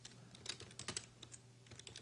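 Quick, irregular keystrokes on a computer keyboard, soft and close, with a steady low background hum and no voices.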